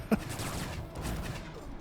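Gunfire in Anarchy Online during an alien sector event, a sharp shot at the start followed by a steady spray of rapid rounds at moderate volume.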